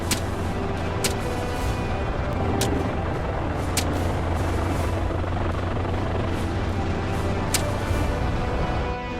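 A helicopter's steady rotor drone fills the scene over farmland in Louisiana during a wild boar hunt, loud and continuous, with faint periodic clicks on top.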